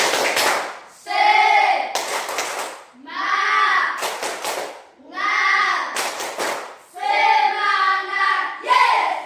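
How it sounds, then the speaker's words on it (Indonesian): Schoolchildren in a classroom perform a rhythmic spirit clap, with bursts of sharp hand claps alternating with short chanted phrases in a repeating pattern, close and fairly loud. "Tepuk semangat."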